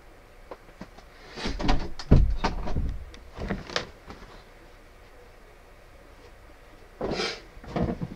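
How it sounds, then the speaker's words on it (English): Door being shut in a blocky survival video game, a few wooden knocks and thuds in quick bursts followed by a later clunk, moderately close with quiet gaps between. "Let me shut this door."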